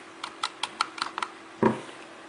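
Computer keys are pressed in a quick run of about eight crisp taps. One heavier keystroke lands after a short pause. The clicks are close and dry, with no talk.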